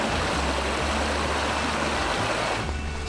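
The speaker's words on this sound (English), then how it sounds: "As you can hear, the creek's right there." A creek flows right beside a hiking trail at the start of an alpine lake hike, a close, steady rushing and babbling of water that fills the whole stretch with no voices.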